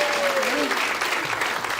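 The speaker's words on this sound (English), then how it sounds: "Now you're clapping" Audience applause at a stand-up comedy show, a steady wash of clapping filling the room for a couple of seconds, with a faint voice under it.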